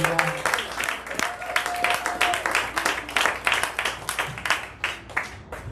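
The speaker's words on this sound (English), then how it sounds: "Clap it up for Joe Barnholt." A comedy festival audience claps and applauds in a sustained burst of dense hand claps. A comedian's voice carries over the start.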